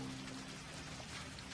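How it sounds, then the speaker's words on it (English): Rain falling in the video game Hitman: World of Assassination, a steady, even wash of raindrops hitting surfaces, faint and continuous with no voices. "Let's get you out of the rain, shall we?"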